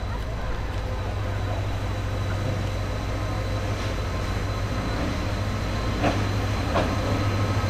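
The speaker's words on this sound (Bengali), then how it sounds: "ছেড়ে দিল এই সরকারহাট রেলওয়ে স্টেশন থেকে।" A Nazirhat local train pulls out of Sarkarhat railway station, its steady low rumble and rolling carriage noise filling the clip from start to finish at constant loudness, with faint clicks over the top and no talk.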